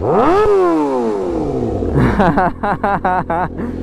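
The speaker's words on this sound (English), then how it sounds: "If you want to rev it, you're going to take this and just twist a little." A ZX6-R or GSXR 600 sport motorcycle engine close by rises in a sharp rev and then winds back down, followed by a choppier, pulsing stretch that may include a voice.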